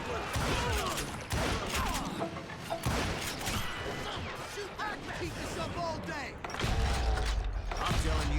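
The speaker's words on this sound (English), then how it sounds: "Shooting feels really smooth in this game." Gunfire from the Western video game Call of Juarez Gunslinger comes as repeated sharp shots and clattering mechanical reload and cock sounds amid a chaotic firefight, loud and dense over game effects and scattered voices.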